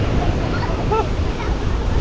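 Rough sea surf breaks along a hidden Bali coastline in a constant loud wash of rushing water, with wind buffeting the microphone throughout.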